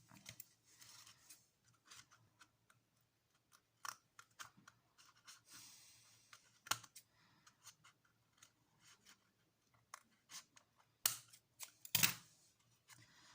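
Scissors cutting double-sided paper: sparse, quiet snips and rustles in a still room, with a couple of louder cuts near the end.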